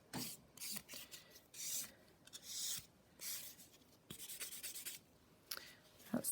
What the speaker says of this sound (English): So this one's smoothing the surface of the nail now, smoothing everything